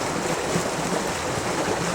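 River water flows in a steady, broadband rush, close and constant throughout, with no voices.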